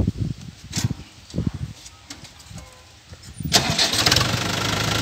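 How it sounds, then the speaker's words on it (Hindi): A Mahindra 585 tractor fitted with a sugarcane cultivator cranks over with a few uneven bursts, then catches and settles into a loud, steady running roar close by. "ये देखो क्या दमदार आवाज़ है ट्रैक्टर की एकदम"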